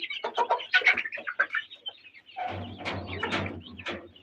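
Broiler chickens and days-old chicks on a small poultry farm cluck and chirp nearby in short, uneven calls, followed by a low steady hum beneath denser clucking.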